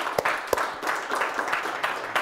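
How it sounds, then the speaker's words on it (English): An audience at an astronomy club talk claps in a short round of applause, scattered individual claps close by over a few seconds, moderately loud. "another round of applause for Randy's work on that."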